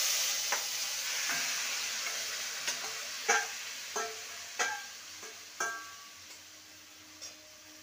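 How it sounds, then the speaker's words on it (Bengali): Snake gourd frying in hot spice tempering in a pan: a steady sizzle with a series of sharp clacks and scrapes from stirring at irregular intervals, close and moderately loud, no talking. "এবার মেখে রাখা চিচিঙ্গাটা দিয়ে দেবো।"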